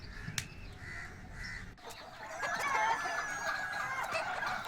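Chickens cluck and squawk close by, with a few short calls early on, then a busier stretch of overlapping clucks and cackles.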